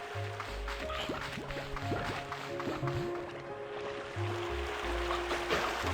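Steady rushing water from a waterfall in the video game Slime Rancher 2, a continuous wash of flowing liquid with drips and gurgles, joined by low game tones and a soft background hum, and no voices.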